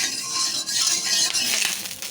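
Hot oil spatters and crackles in a kadai over a high flame as a spatula with a little water on it spreads the contents. The hiss and splatter are close and continuous, with no talking.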